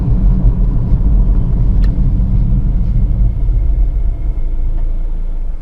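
Steady low rumble of a car from inside, engine and road noise holding even and then easing slightly as it slows smoothly.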